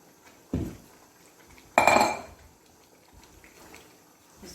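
Khoa being stirred into semolina halwa made with desi ghee, two distinct clattering bursts of a spoon scraping and knocking against a metal pot, with quiet gaps between.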